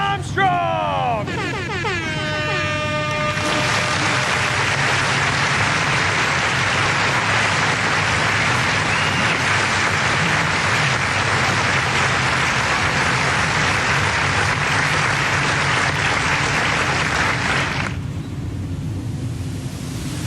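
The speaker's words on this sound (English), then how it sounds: "Give him a round of applause, folks" Crowd applauding at a speedway after a late model feature race, with a horn blast at the start and then a steady, dense roar of clapping that cuts off near the end, mixed with announcer talk and engine noise.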